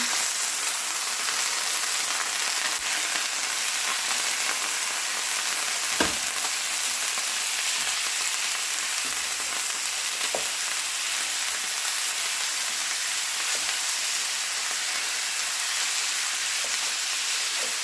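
Ground taco meat browning in a pan, a steady loud sizzle and crackle of frying fat with occasional scrapes and taps of a masher, continuous and close with no talking.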